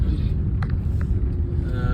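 A car drives along a road at night, with a steady low engine and road rumble heard from inside the cabin, continuous and fairly loud, with a few faint higher sounds over it.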